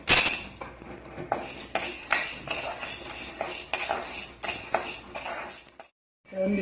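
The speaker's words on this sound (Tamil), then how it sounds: "அடுத்தது கடலைப்பருப்பு போட போகிறேன்." Chana dal tipped into a pan for dry roasting alongside coriander seeds, giving a burst of rattling grains and clinking utensil sounds that continue as scraping stirs through most of the stretch, close and fairly loud.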